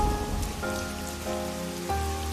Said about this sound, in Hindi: जैसे ही 4:02 हुए, धरासार वर्षा होने लगी